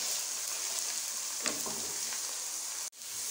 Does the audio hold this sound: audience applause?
no